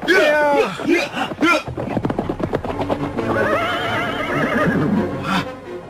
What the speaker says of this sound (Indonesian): Kuda mereka berlari bagaikan terbang di atas pohon-pohon semak